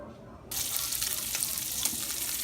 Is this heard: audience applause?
no